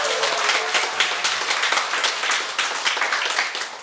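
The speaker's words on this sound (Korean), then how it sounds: "박수 한번 쳐줘." A congregation at a priest's light-hearted healing sermon claps together in loud, dense, steady applause that fills the whole moment with rapid overlapping hand claps.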